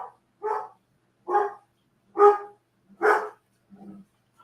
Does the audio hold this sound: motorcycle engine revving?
no